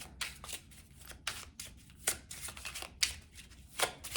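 A deck of color oracle cards being shuffled by hand, a quiet run of soft papery riffles and sharper slaps at an irregular rhythm, close up with no talking.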